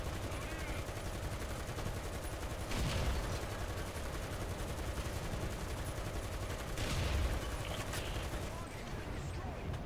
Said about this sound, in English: So now I'm just gonna open fire on him because I know I hit him.